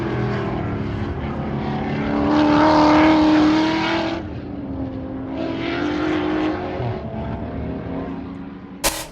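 A race car lapping a track after a Spec Miata race, its engine droning loudly and rising and falling in pitch through gear changes, then easing off and fading away, ending with a sudden sharp click.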